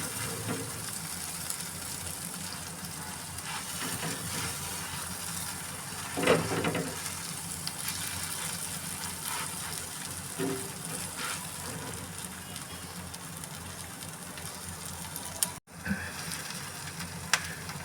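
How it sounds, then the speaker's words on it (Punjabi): Pav buns toast on a hot pan for masala pav, giving a steady close sizzle with occasional scrapes and small clatters and no talking. "ਇਸ ਤਰ੍ਹਾਂ ਇਹ ਵਾਲੇ ਆਪਾਂ ਬੰਦ ਸੇਕ ਲਾਂਗੇ"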